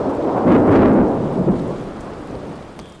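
Heavy rain pours at night while a loud rolling thunderclap swells and fades, a dramatized stormy scene with no voices.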